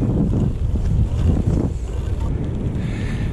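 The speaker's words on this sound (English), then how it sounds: "It is really windy though" Strong wind buffets the microphone outdoors while cycling, a loud, continuous low roar with gusting surges throughout.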